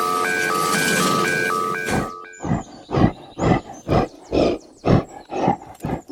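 A gorilla roars in a series of about eight loud, rhythmic bursts, each a short throaty blast, following a brief electronic jingle.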